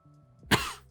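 A single short cough, sudden and close, standing alone against quiet with a brief low hum before it.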